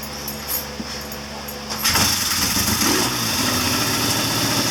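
A 1979 Triumph Bonneville T140D motorcycle engine idling close up, a steady low throbbing that swells louder partway through, with the clutch in and the bike in gear.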